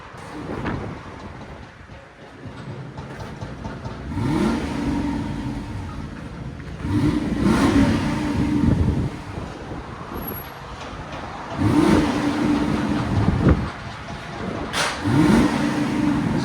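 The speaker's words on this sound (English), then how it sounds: "1996 Lexus LS 400. This is what it sounds like before." A 1996 Lexus LS 400 with a 4.0L V8 on its stock exhaust revs repeatedly, four or five rising and falling pulls over a smooth idle, fairly quiet and close, with no talking.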